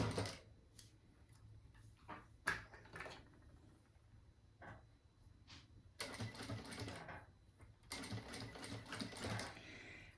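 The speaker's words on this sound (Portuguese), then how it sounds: "agora a gente vai fazer uma costurinha aqui na pontinha de acabamento desse viés em toda a volta" Domestic sewing machine stitching bias binding around the edge of a small fabric organizer bag, short rattling bursts of stitching stopping and starting, then longer steady runs near the end, close and fairly quiet.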